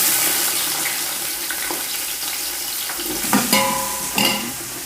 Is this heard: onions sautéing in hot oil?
yes